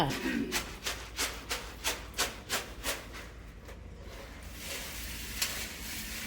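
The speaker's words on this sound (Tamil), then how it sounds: "ரெண்டு பேர் ஒருத்தர் ஜலிக்கிறாங்க ஒருத்தர் புடைக்கிறாங்க" Lentils mixed with red soil are sifted and winnowed by hand, giving a steady rhythmic rasping shake of about a dozen even strokes, then a looser rustle, with talking in the background.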